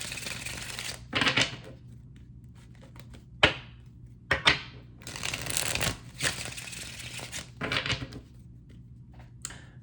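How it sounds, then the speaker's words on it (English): Several bursts of riffling card shuffles, crisp and close, separated by short pauses and soft taps, with no talking. "after I'm done shuffling this deck"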